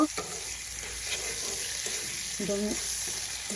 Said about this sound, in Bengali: কড়াই দিয়ে পেঁয়াজ আর তেল